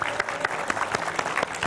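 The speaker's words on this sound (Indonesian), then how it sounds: "Luar biasa, tepuk tangan buat Naya." Audience applause for a young girl named Naya on a talk show, steady dense clapping with a few louder bursts, filling the short moment without speech.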